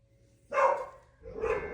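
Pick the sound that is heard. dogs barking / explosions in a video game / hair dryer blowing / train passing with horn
dogs barking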